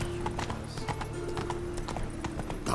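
Roach the horse galloping in The Witcher 3, a quick close run of hoofbeats with a short whinny mixed in, set against steady game sound with no talk.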